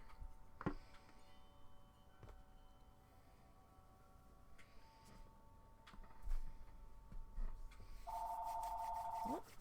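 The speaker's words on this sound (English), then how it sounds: "And then the phone rings." A telephone rings faintly in an indoor room, with a short tonal ring early on and a clearer electronic warbling ring toward the end, set against quiet background noise.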